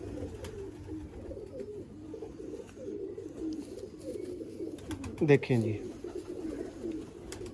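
Teddy pigeons coo in steady low murmuring phrases throughout, someone speaks briefly over them, and a sharp rattle or flutter breaks in near the end.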